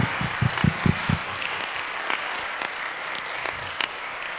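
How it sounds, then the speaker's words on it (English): Audience applause rises for a panel and moderator at an educational equity forum, a steady crowd clapping with a few louder, nearer claps standing out in the first second. "let's have a round of applause for this incredible panel and moderator"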